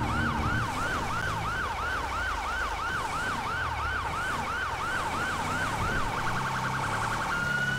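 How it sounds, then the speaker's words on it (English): Police siren in GTA 5 wailing loud and close with a steady rising-and-falling cycle, shifting to a faster yelp near the end, over constant engine rumble. "This siren is pretty loud."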